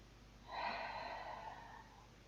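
One quiet, slow breath, a soft airy rush that rises and fades over about two seconds, close and alone during a calm meditation exercise.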